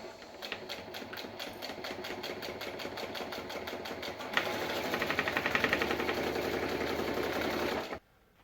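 A sewing machine stitches across layers of outer fabric with a label caught between them, running in a fast, steady close-up chatter that picks up speed midway and then stops abruptly.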